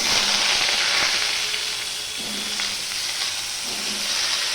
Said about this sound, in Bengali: এবার আমি পটলগুলো সবার প্রথমে ভেজে নেব